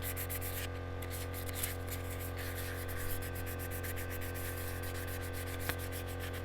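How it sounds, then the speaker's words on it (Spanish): Steady, rhythmic scratchy rubbing of 800-grit sandpaper against a painted Seat 600 part, close by, over a constant low hum from an air compressor. "Ahora vamos a lijarla con 800 mismo"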